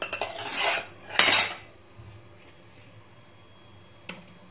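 A metal kadhai is handled on a stove with sharp clanks and scrapes in two quick bursts near the start. A short clink follows later over a quiet background.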